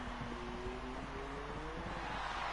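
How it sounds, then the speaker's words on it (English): A Formula 1 car engine in an F1 racing video game at Bahrain whines steadily, its tone rising slightly, quiet and continuous with no one talking. "Oh dear, that car's really loud."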